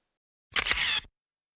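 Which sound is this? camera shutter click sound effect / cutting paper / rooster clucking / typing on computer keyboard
camera shutter click sound effect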